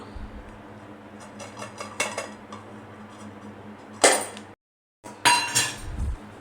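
A steel plate clatters and clinks against metal while carrot ghee sweet is set on it, a few sharp ringing knocks spaced through the clip with a brief silent gap before two more bright clangs.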